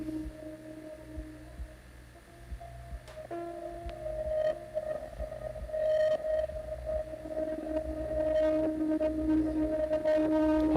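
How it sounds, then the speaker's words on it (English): A looped piano recording on magnetic tape plays through a small loudspeaker, sustained soft tones over a steady low hum and hiss, gradually swelling in level, with no talking. "So let's mix the piano loop in."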